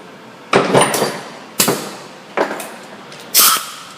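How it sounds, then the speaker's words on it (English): Four sharp metallic air hammer bursts during a Ford front wheel bearing replacement, each a loud strike with a brief ringing decay, spaced unevenly about a second apart. "if you have an air hammer, like I do, we can get it out of there without damaging anything"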